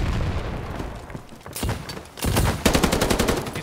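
Automatic Tommy gun fire in the World War II shooter Battalion 1944, loud rapid bursts of shots cracking close by, a first burst then a denser, longer rattle after a short pause.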